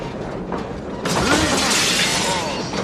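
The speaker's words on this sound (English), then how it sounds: "a random guy wakes up in the back of the truck stop and he smashes open the doors" In the film Maximum Overdrive, doors are smashed open at a truck stop with a sudden loud crash and shattering burst that continues as a bright, chaotic clatter after a quieter opening.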